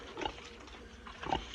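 A pig on a farm gives two short, close grunts about a second apart, low and snorty, with quiet outdoor air in between.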